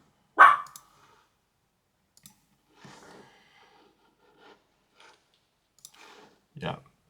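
Dogs bark indoors at home: one sharp bark opens the stretch, a few faint rustles and clicks follow across long quiet gaps, and another short bark comes near the end.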